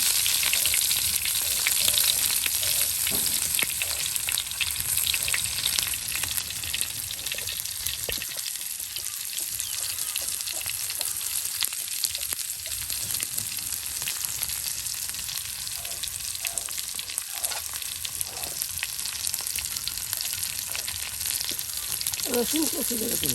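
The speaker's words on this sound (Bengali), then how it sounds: "রসুন কুচি পেঁয়াজ কুচি সব একসাথে কিন্তু তেলে ভেজে নেওয়া হচ্ছে" Chopped garlic and onion frying together in oil, a loud, dense sizzle that holds steady throughout with faint clinks and stirring scrapes, a little quieter around the middle.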